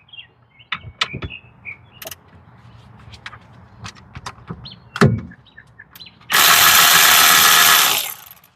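An air impact tool buzzes loudly for about two seconds while loosening brake caliper bolts on a Hyundai Sonata, after scattered metallic clinks and knocks of tools nearby.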